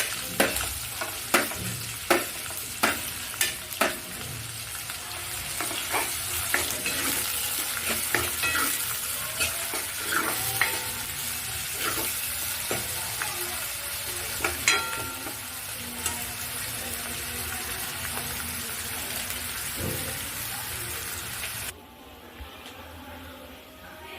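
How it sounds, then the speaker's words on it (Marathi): Chopped onion frying in hot oil with bay leaf for an egg curry, a steady close sizzle broken by sharp clicks of a spoon stirring against the pan, ending in a quieter sizzle. "आता आपण कांदा टाकून घेऊया आणि कांद्याचा कलर चेंज होत तोपर्यंत कांदा तेलामध्ये फ्राय करायचा"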